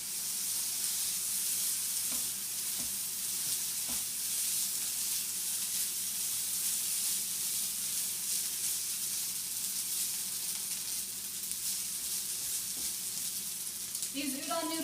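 Pre-cooked udon noodles sizzle and fry steadily in a pan for okonomiyaki, a continuous close hiss with faint stirring scrapes throughout.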